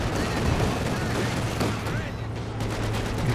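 A .50 cal machine gun rattles in Company of Heroes 2, dense continuous bursts of automatic fire mixed with other battle noise throughout, fairly loud and busy.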